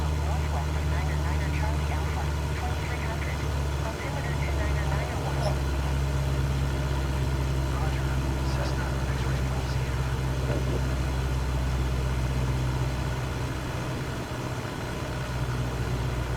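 A Cessna 172 Skyhawk engine in Microsoft Flight Simulator 2024 drones steadily at reduced power, a constant low propeller hum heard from the cockpit, with a pilot talking over it.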